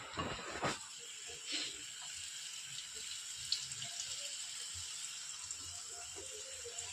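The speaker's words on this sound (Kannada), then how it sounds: "ಈಗ ರೆಡಿ ಮಾಡಿ ಇಟ್ಟಿದ್ದೀವಲ್ಲ ಇದನ್ನ ಸ್ವಲ್ಪ ಹಾಕಿ" Potatoes dropped into hot oil for French fries, a steady faint hiss and sizzle with a couple of brief splashy bursts at the start, heard alone.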